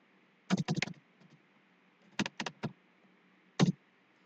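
A computer keyboard clatters as a git version command is typed into a command prompt, three short bursts of quick keystrokes with pauses between, close and crisp over faint room hiss.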